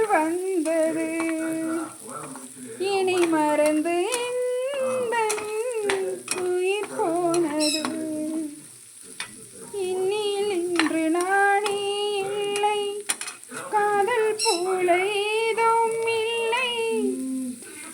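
Food frying in oil in a pan is stirred with soft scraping and light sizzle, partly buried under loud, continuous singing music.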